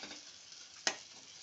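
Drumstick and tomato curry being stirred in a pan, a soft low simmering hiss with a single sharp scrape of the spoon near the end.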